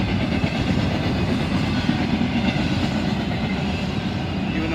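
An intermodal freight train carrying mostly UPS containers rolls past at moderate speed, a steady loud rumble with faint rail clatter and no talk.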